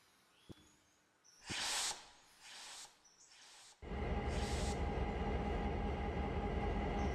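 GP38 diesel locomotive in the Railroader game going through a cold start, with a few short hissing bursts of air followed by the engine catching and settling into a loud, steady rumbling idle.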